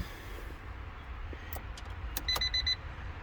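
A 1988 Honda Civic wagon with a crank-no-start fault gives a quick run of about four sharp, high electronic beeps as the ignition key is turned, close by over a low, steady background rumble.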